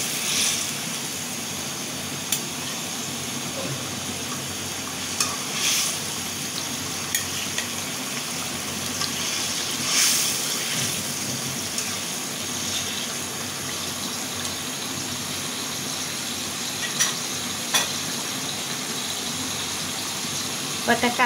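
Fish cooks in a pan of spice paste thinned with a little water, giving a steady close bubbling and sizzling wash with occasional clinks and faint background voices.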